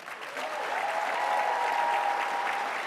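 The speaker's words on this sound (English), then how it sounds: "Let's give our panel a round of applause one more time." An audience applauds a panel at a youth celebration event, with steady sustained clapping throughout and a faint cheer mixed in.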